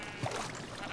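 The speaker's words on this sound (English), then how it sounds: "Sheep, get out of my way, sheep" A single short sheep bleat sounds in a Minecraft game, quick and fairly clear over faint background noise.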